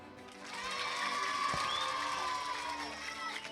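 A crowd at a live comedy stage show applauds and cheers together, a dense swell of clapping and shouts that rises quickly, holds for a few seconds and then eases off.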